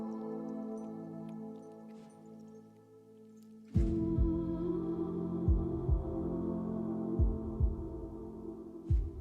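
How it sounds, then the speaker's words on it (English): Slow, deep heartbeat thumps begin a few seconds in and repeat at an even rhythm beneath sustained, droning ambient music tones. "And now I want you to bring awareness to your heartbeat."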